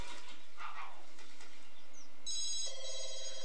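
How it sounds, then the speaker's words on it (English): Phone ringing in The Sims life-simulation game, faint at first with soft chirpy tones, then a bright electronic ring starting near the end, quiet overall. "Okay, now the phone's going off."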